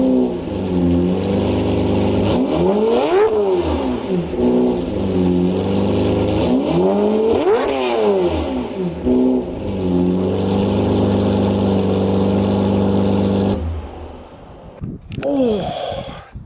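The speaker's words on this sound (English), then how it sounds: "One of the best V12 noises, I think, of any production vehicle ever." Straight-piped Lamborghini Murcielago V12 revving loudly up close in repeated surging blips with a steady idle rumble between, ending in a shorter rev after a brief drop.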